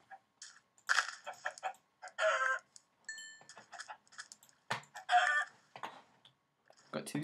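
Chickens cluck and squawk in the video game Minecraft, several short bursts scattered across a busy stretch alongside other bright game sound effects.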